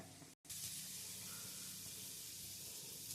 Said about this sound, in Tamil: கொஞ்சமாக எண்ணெய் விட்டு இதெல்லாம் வறுத்து எடுத்துக்கலாம்